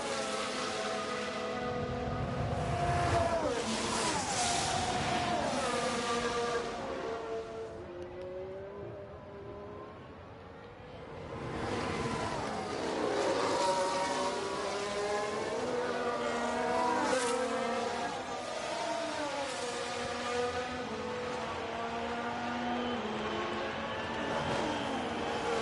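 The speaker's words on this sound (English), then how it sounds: "the battery boosted acceleration out of that corner is mighty" In the F1 Manager 22 video game, Formula 1 race cars accelerate out of a corner. Several high-pitched engine whines climb and overlap over a sustained roar, then ease briefly before the cars surge again.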